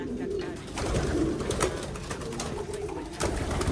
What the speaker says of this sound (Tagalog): Ang marami kasi talaga natin dito mga kalapatids, alam nyo naman, mga speed bird.